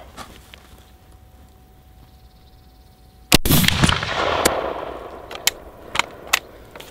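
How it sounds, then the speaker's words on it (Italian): A Dreyse M1841 needle gun fires on a range: one loud, sharp report with a long rolling echo, followed by several fainter distant shots spaced out over the following seconds. "spariamo 5 colpi a 50 5 colpi a 100 e il resto a 200 metri"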